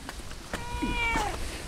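A cat gives a short, clear meow at close range, a single rising and falling call that lasts about half a second among light background noise.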